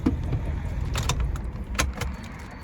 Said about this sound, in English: You got 2 keys to the car, okay?